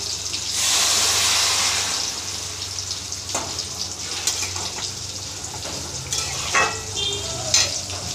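Water is poured into a pan of fried drumstick stems and lentils, raising a loud burst of sizzle and hiss that gradually settles into steady bubbling with occasional stirring scrapes, with no talk.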